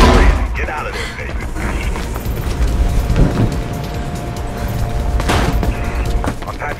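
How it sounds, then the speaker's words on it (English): Rapid bursts of gunfire and booming blasts over a dense, noisy soundscape in the game Mirror's Edge, several sharp shots standing out near the end. "I can hear gunshots"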